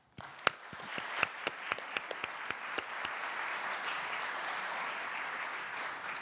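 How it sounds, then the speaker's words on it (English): Audience applause at a climate geography panel event, starting with a few distinct loud claps that quickly swell into a steady, sustained round of clapping from the room, fairly distant and with no voices over it. "Please join me in a round of applause."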